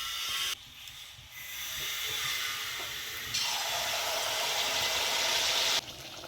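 Neyyappam, sweet fried rice cakes, sizzling in hot oil, a steady bright hiss that swells and thickens partway through, then drops back near the end, close and continuous with no voices.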